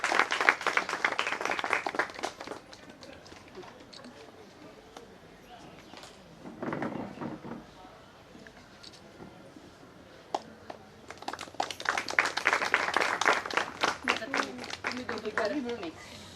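An audience at a Haldi-Kunku event inauguration breaks into loud, dense applause, fading to talk in the middle before a second strong round; a speaker is heard between the bursts.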